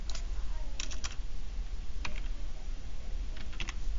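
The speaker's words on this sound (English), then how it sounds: "So we're going to type those in." Keys on a computer keyboard clatter in short, scattered bursts of quick clicks over a low background rumble, close and moderately loud, with no talking.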